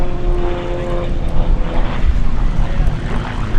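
The Gamebird GB1 aerobatic propeller plane "Tigger" performs at Sywell airshow, its engine droning loud and steady with a rising and falling propeller roar, heard alone.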